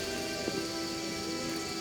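Steady rain in The Witcher video game, a continuous soft patter under a faint tonal hum of game ambience, with one brief louder drop or splash.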